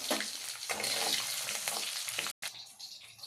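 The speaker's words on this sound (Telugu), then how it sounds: "కరివేపాకు వేస్తున్నానండి. తెల్లగడ్డ వేస్తున్నానండి." Curry leaves and garlic hit hot oil for a tempering, giving a loud, steady crackling sizzle with bursts of spitting, a brief dropout near the end, then a quieter continued fry.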